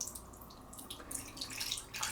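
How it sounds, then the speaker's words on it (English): A 110-year-old bottle of Coca-Cola being poured, a faint liquid trickle with light splashing and dripping into a glass, quiet and close, lasting a couple of seconds with no voice. "Let's pour a 110-year-old Coca-Cola."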